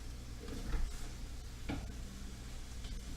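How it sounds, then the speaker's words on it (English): Corn grits being stirred in a pot during a cheap bangers and mash dinner: a few soft scraping strokes with light sizzling underneath, close and low in level. "you want to give the one with the corn grits a little stir"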